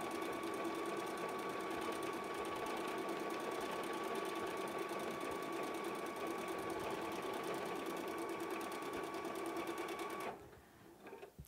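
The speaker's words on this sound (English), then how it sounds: "Then we're going to touch the start stop button and let it stitch out." A Viking EPIC 50 sewing machine stitches a dimensional applique in a steady, fast needle rhythm for about ten seconds, then stops abruptly, leaving near silence.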